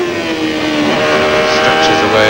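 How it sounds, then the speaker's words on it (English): Formula One car engines at the 1991 French Grand Prix at Magny-Cours, seen from Nigel Mansell's car behind Alain Prost, a loud high droning whine rising in pitch as the car accelerates, with a commentator talking over it. "That gives you a good idea of just how enormous the acceleration of these Formula One cars is"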